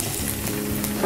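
Loud, steady sizzling of peeled shrimp and squid frying in a hot pan, close up, with no voices.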